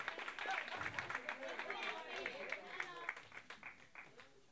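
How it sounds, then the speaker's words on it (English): Audience at a stand-up comedy show applauding, a dense, fairly loud wash of clapping with cheers and crowd chatter running throughout, fading slightly toward the end. "Come on, clap for me."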